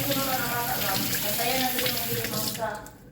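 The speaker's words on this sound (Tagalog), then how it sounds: "Maghugas ako dito sa sink para mamaya pagka nag-coffee kami, malinis na." Tap water runs steadily into a hotel sink in Abu Dhabi during washing up, a loud continuous splashing gush that cuts off near the end, with a voice faintly underneath.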